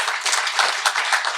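A short burst of audience clapping at an industry day event, quick and scattered claps that sound close and moderately loud over a brief moment.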